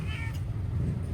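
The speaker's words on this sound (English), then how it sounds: "A little Klong Toey cat." A small street cat meows once in Klong Toey, Bangkok, a short, fairly faint cry over a steady low rumble of background noise.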